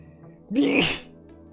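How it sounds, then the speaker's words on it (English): A single sneeze, sharp and close, bursting out after a brief quiet intake and fading quickly. "I'm gonna sneeze."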